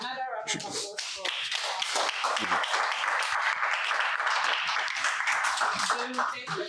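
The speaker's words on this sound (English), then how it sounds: "Another round of applause for" Steady applause from a crowd at a mentorship seminar fills the room, dense clapping continuing evenly throughout without pause.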